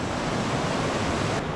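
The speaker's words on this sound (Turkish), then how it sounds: "Böyle gidiyor nehir." A river rushes past in lush countryside in Malaysia, a loud, even wash of flowing water close by with no talking over it.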